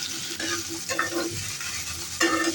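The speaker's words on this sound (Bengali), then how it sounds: "আলুটা কড়াইয়ে দিয়ে দিচ্ছি, হালকা লাল করে ভেজে নেব।" Diced potatoes, three medium ones, fry in a wok over medium flame with a steady close sizzle, broken by a few louder scraping stirs, and no voices.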